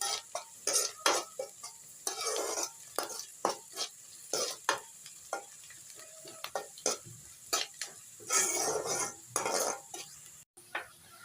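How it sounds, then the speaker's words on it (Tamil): Ingredients for a moringa flower egg stir-fry are stirred and fried in a pan until browned, with a soft sizzle broken by repeated rhythmic scrapes and clinks of a spatula against the pan. "ப்ரௌனிஷ் கலரில் வர அளவுக்கு நல்லா வறுக்கணும்"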